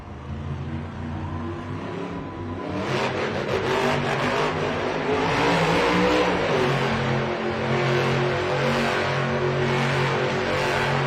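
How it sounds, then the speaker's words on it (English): The Grave Digger monster truck's engine roars in a Las Vegas arena, starting as a lower rumble and then swelling into a loud, sustained rev that holds through the rest of the stretch with no talking. "Here comes Weston Anderson, Gravedigger"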